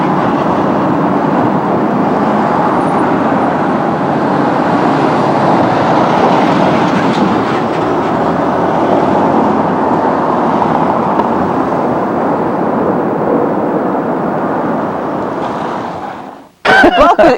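Steady rumbling road noise heard from inside a moving car, a continuous dense roar at close range that cuts off abruptly near the end, followed by a brief burst.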